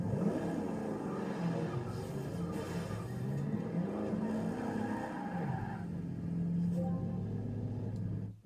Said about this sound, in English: let me just put this car where it's supposed to be